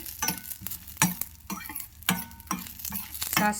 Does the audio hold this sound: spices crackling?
yes